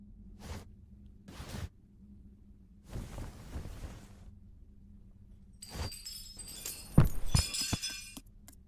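Glass shatters and tinkles in a sudden bright crash near the end, coming after a stretch of soft whooshing and scattered low thumps. No one speaks.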